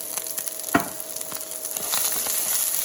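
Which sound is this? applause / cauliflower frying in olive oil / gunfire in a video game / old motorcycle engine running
cauliflower frying in olive oil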